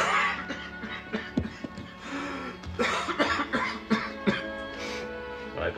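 A person with a bad cough coughs repeatedly in a drama scene, several harsh bursts and throat-clearing sounds spread across the moment, close and fairly loud over a faint steady hum.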